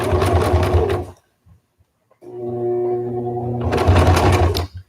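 A sewing machine stitches through a thick bump in a tie-back fabric face mask, running loudly, pausing briefly, then straining as it pushes on, with a faint voice in between.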